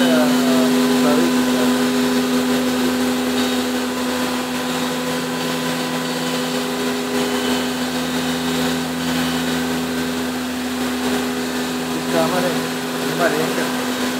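CNC router spindle turning at 14290 rpm on a wood-cutting machine, a loud steady whine with a strong constant hum throughout, unchanging for the whole stretch.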